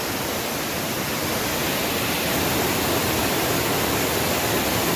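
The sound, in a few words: river water flowing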